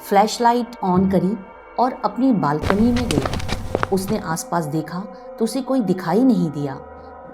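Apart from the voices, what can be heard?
No distinct noise like a dog, phone or traffic.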